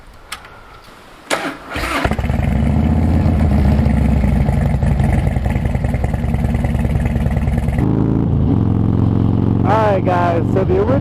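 A Harley-Davidson Dyna motorcycle starts with a sharp crank and settles into a loud, steady lumpy idle, then a gear clunk and blips of throttle rising and falling as the bike moves off, close to the microphone.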